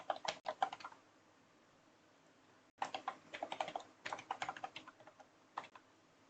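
Close, quiet typing on a computer keyboard while logging into a virtual machine: a short burst of key taps, a pause, then a longer run of quick, uneven clicks ending in a single keystroke, with no voices.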